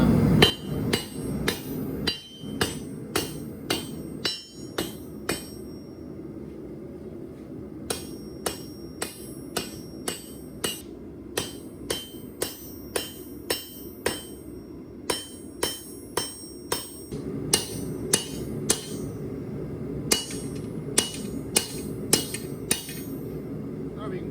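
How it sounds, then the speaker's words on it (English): Repeated hammer blows forging hot metal on an anvil to shape a bracket for a chicken coop, sharp ringing strikes in steady bursts with short pauses, loud and close. "I want to make sure that I can see the color of the metal so I know basically when to stop hitting"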